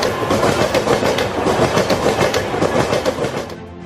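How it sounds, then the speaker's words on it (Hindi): Indian passenger train running on railway tracks, a loud rhythmic clickety-clack of wheels over rail joints with rumbling carriages, close and continuous before easing off at the end. "देश की लाइफलाइन है पटरियों पर दौड़ती ट्रेनें।"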